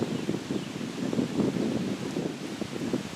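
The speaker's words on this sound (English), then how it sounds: "That wind's starting to pick up." Steady wind blowing outdoors, a continuous low rushing roar with gusty swells and rustling, no voices.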